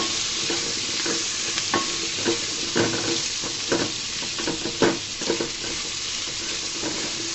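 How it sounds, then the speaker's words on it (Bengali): Potatoes and pointed gourd cooking in a curry with salt, stirred with scraping strokes in a pan over a steady, close sizzle with no voices. "তারপর দিব স্বাদ মতো লবণ, দিয়ে আবারও নাড়াচাড়া করে দিব"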